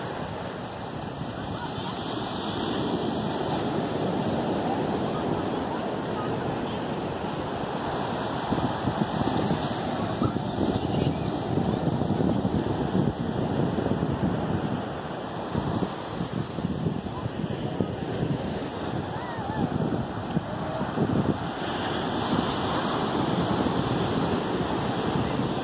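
Surf rolls onto the beach at Praia de Taperapuã in Porto Seguro, Bahia, as a continuous wash of waves mixed with gusty wind buffeting the microphone, steady and fairly loud throughout.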